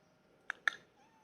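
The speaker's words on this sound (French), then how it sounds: "j'entends Monsieur Simba qui miaule" A cat outdoors gives two short, quiet meows in quick succession, fairly close but soft, over a hushed background.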